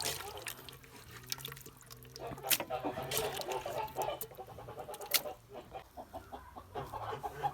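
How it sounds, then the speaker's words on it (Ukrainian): Turkeys gobble and chase a broody hen in a yard, clucking with scattered calls and rustling over a low background murmur, fairly close. "Індики ганять квачку."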